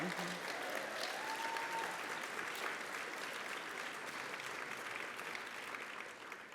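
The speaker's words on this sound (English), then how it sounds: "You can clap for that." Sustained applause from a large audience at the Art Directors Guild awards ceremony, a dense, even wash of clapping that holds steady throughout, heard from a distance.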